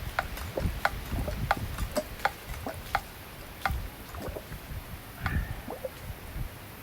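Someone hand-pumps a triple-valve ground-well fire pump, producing a steady run of sharp, dry clicks and knocks in an irregular clattering rhythm, fairly quiet and close, with no talking.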